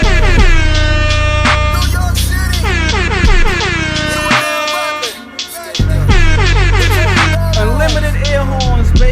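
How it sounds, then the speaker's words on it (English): Repeated blaring air horn sound effects, loud and close, stacked in rapid overlapping blasts with falling pitch sweeps, briefly dropping out midway before resuming over a deep bass backing. "Unlimited air horns, baby."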